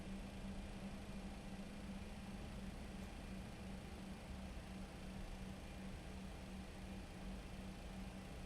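A steady engine drone with a low hum from an MD-11F freighter's engine 1 starting up in a flight simulator, continuous and even throughout, no voices.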